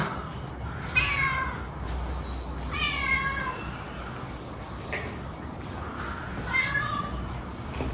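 A cat meows several times at moderate distance in an abandoned hillside bungalow estate, its rising calls spaced a couple of seconds apart over a steady chorus of crickets and insects.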